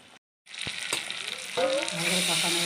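Water poured into frying chicken masala for chicken kosha sets off a sudden loud hiss right after a brief silence, the sizzle staying strong and steady to the end.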